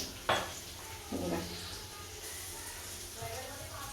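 Garlic paste and vegetables being sautéed in a pan: a sharp clank of a utensil, then a brief sizzle and scraping stirs, close by, with household background noise.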